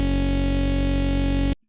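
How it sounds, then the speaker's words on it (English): A sustained Serum synth chord built from stacked oscillators, one dropped two octaves and another raised seven semitones, rings loud and steady for about a second and a half before cutting off abruptly into silence. "It's gonna create an almost chord, sounds like this."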